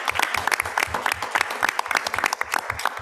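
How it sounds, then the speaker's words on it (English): Brief round of clapping from an audience at a county board of education meeting honoring teaching assistants, a quick patter of hands from a modest crowd with no voices. "So a round of applause for our teacher teaching assistants."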